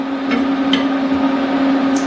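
Small portable burner running with a steady, loud hum and a constant drone, with a few faint clinks over it.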